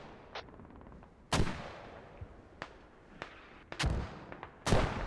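Mortar fire in the video game Squad: several sharp, loud booming blasts at irregular intervals, some close together, with quieter distant thuds between them and no talk.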